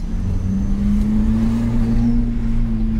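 A Fiat Palio 1.0 with an added turbo runs steadily, a continuous engine drone with a rising, whistle-like tone held over it, loud and close, no talking.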